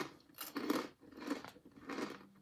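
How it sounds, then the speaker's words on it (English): Three crunchy bites and chews of salt and vinegar crisps, each a short burst of crackling close to the ear, evenly spaced and fairly quiet, with no talking. "Great crunch, lovely texture."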